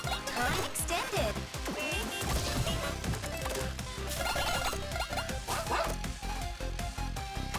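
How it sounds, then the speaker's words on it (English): Dogs bark and yip inside an indie video game, sharp repeated barks scattered over dense, loud game music and crashing effects, with some speech-like sounds mixed in. "There are dogs."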